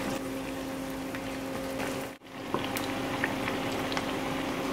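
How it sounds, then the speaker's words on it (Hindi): Fish pieces frying in oil in a kadhai, a continuous bubbling sizzle with a faint steady hum beneath, briefly dropping out midway before resuming with a few light pops. "फिश को फ्राई कर लेंगे।"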